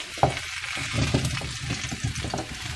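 Steady crackling sizzle of vegetables frying in oil, close up, with a few soft stirring clicks and scrapes throughout.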